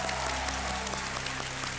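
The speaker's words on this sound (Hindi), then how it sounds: "हमारे यहाँ जनता बैठी हो, ताली बजाएगी आपके लिए." A seated studio audience at a television quiz show claps steadily, a dense, even patter of many hands over a faint low hum, with no voices.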